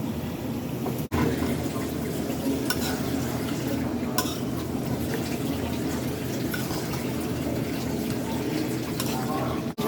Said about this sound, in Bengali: মশলা কষানো দেন, তো এখন আমি মাংস দিয়ে দিচ্ছে